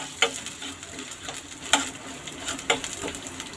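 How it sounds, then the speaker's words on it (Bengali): Onions frying in hot oil for a prawn curry, a steady sizzle broken by three sharp scraping stirs of a spatula against the pan, close and alone with no talk. "এখন এই পেঁয়াজটা কাঁচা স্মেলটা না যাওয়া পর্যন্ত ভালো করে ভেজে নিব।"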